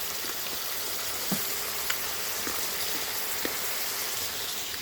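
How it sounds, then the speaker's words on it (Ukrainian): Constant crackling sizzle of pork frying in a hot pan, close up, with scattered small pops throughout. "Сковорідочка шкорчить."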